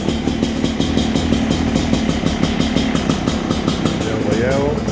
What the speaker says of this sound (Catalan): a veure si se m'engega sense donar gas